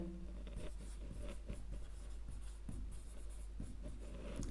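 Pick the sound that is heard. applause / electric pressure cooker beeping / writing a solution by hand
writing a solution by hand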